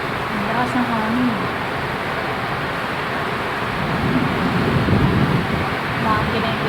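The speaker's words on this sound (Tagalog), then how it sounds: "Ang lakas ng hangin." Strong wind roars steadily during a thunderstorm, a dense, loud broadband rush with no letup, while a person talks over it in places.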